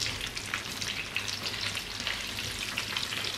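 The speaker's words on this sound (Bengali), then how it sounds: "ধিমে আঁচে ভেজে নেব আমি" Hilsa fish frying in oil over low heat, a dense, continuous sizzle and crackle that stays even and close with no voices.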